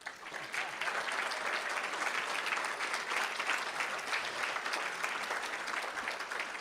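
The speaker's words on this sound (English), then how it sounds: "We want to give you a round of applause." Sustained applause from the audience at a school district board meeting, steady and dense clapping that carries on without a break.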